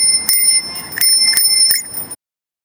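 A bicycle bell rings several times in quick, bright dings, close and clear, then cuts off abruptly into silence.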